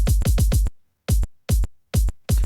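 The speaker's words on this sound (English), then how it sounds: "when you slice a kick from a tune like that, it's usually a bit messy" Punchy, boomy kick drum hits sliced from a tech house track, first a quick burst of four, then single thumps spaced apart, each carrying a bright hissy top end of hi-hat bleed and artifacts.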